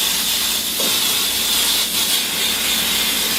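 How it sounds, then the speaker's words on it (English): Can of flour-containing baking spray coating a bundt pan over a kitchen sink, giving a loud continuous close hiss of spray with no pause throughout. "spray with flour in it. And it makes quick work of greasing and flouring a bundt pan."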